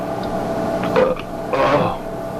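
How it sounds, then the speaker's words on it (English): A short, low, gurgling belch rumbles out, followed by a second burp-like croak, set against a steady background hum. "That was a belch?"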